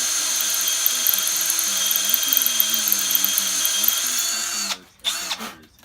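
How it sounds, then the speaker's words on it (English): A power drill runs steadily with a drill bit during engine work on a turbocharged LSX 5.3 V8, its high whine continuous and close, then cutting out abruptly near the end with a brief restart. "Oh, that drill bit's sharp."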